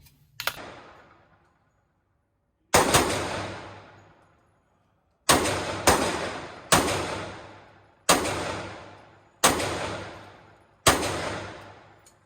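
Shots from a B&T USW 320 pistol fired at a range, fired without the stock. Loud, sharp cracks come singly and in close pairs, each followed by a decaying echo, with pauses between them.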